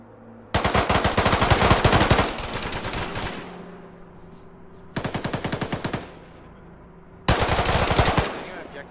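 Three loud bursts of automatic machine-gun fire from a military video game during a combat search-and-rescue mission, each burst a rapid rattle lasting one to two seconds, separated by quieter gaps with no speech.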